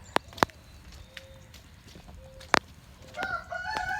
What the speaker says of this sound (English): There's a lot of chickens.